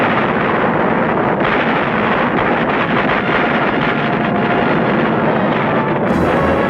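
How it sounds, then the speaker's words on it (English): Wartime battle sound effects of tanks rolling and bombs falling, a loud, dense, continuous rumble of blasts and artillery-like booms with rough wind-like noise throughout, no voices. "Then tanks roll though, bombs fall, and everything gets abandoned forever."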